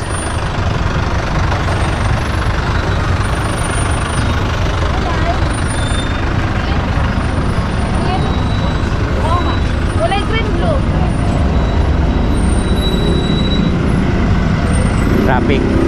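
Morning road traffic with trucks and buses passes by in a steady, continuous roar, with engine rumble and brief hissing throughout.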